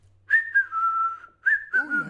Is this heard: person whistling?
yes